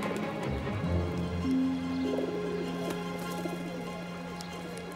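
Pigeons coo softly and repeatedly in the crevices of an eleventh-century old bridge in Albi, a low murmuring call over steady outdoor ambience with faint river noise.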